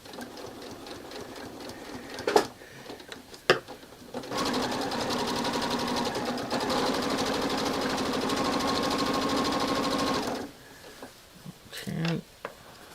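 A sewing machine stitches a quarter-inch seam allowance on a quilt piece, a steady close whir running for about six seconds after a couple of handling clicks, then stopping.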